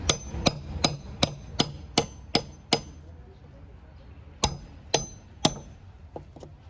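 Sharp, ringing blows of a fixed blade knife used as a chisel, a rhythmic run of eight strikes, a short pause, then a few more uneven hits, close and distinct.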